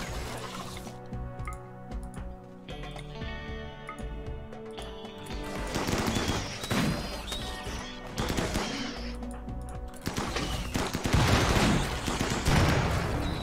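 Colonists open fire on attackers in the colony game Rimworld: sustained rattling bursts of gunfire over a game music bed, the shooting growing denser and louder toward the end.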